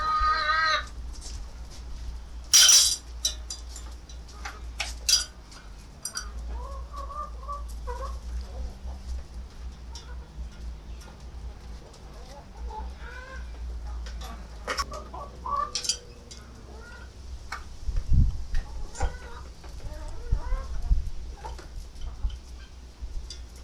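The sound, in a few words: chickens pecking rice from a saucepan and spoon on a lid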